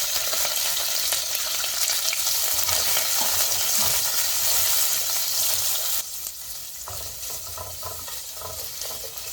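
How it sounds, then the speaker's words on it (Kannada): Chili, curry leaves and onion fry in a hot pan for vermicelli upma, a loud steady sizzle with a slight drop in intensity partway through, occasional stirring scrapes, no voices. "ಇವಾಗ ಇದಕ್ಕೆ ಚಿಲ್ಲಿ, ಕರಿಬೇವು ಮತ್ತು ಆನಿಯನ್ ಹಾಕ್ತಾಯಿದ್ದೀನಿ."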